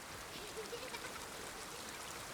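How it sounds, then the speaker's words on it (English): Soft, steady trickle of flowing water, with a few faint chiming tones, as shells are picked up in the climbing game Jusant on PS5; quiet and continuous throughout. "whenever I pick up these shells, I always hear water sounds"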